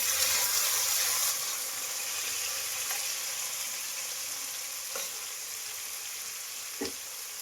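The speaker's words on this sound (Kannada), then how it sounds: "ತುಂಬ ಹಣ್ಣಾಗಿರೋ ಟೊಮೊಟೊ ಹಾಕ್ತಾಯಿದ್ದೀವಿ. ಚೆನ್ನಾಗಿ ಫ್ರೈ ಮಾಡ್ಕೊಳ್ಳಿ." Ripe tomatoes frying in a pan give a steady, close sizzle, heaviest in the first second, with a couple of faint stirring clinks near the end and no talking.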